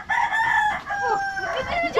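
A rooster crows loudly and close by, one drawn-out cock-a-doodle-doo call with wavering pitch over faint background noise.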